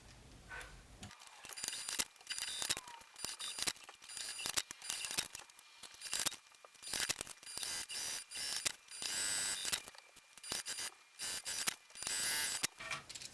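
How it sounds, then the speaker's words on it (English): Sewing machine stitching fabric for a handmade bag, running in repeated short bursts of mechanical whirring and clatter with brief pauses between runs, close and moderately loud with no talk. "let's go ahead and start sewing and getting everything taken care of"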